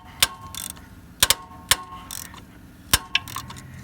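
Close, sharp ratcheting clicks come in short irregular bursts, a slightly rusty hand ratchet being worked with brief pauses between turns during a car drive belt replacement.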